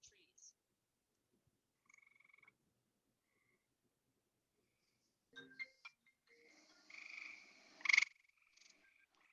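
Tree frogs call in late summer, sparse faint chirps and short trills that grow into a brighter burst of calls later on, heard quietly at a distance against near silence.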